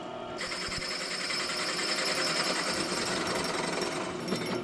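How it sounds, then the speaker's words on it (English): A loud, continuous power drill whines and grinds nearby, running steadily for several seconds after a brief start. "Now we gotta drill a bunch of holes."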